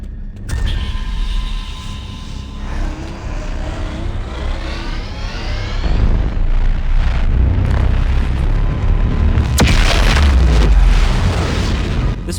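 A man cannon launch pad fires in Dead Space 3, a loud roaring whoosh that rises into a heavy rumbling boom with a sharp crack near the end.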